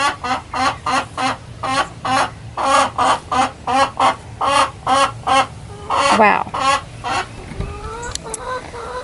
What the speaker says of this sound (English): So I have 5 chickens,